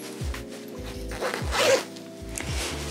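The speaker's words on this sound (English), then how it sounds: "let's just go in and unzip this" Zipper on a bridal wedding dress being drawn open, a series of close, short ratcheting pulls with small pauses between them, no talk.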